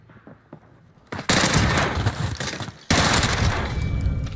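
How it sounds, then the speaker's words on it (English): Gunfire in Call of Duty: Warzone erupts in two loud, sustained automatic bursts after a few softer shots, with a brief gap between the bursts. "here's some shots"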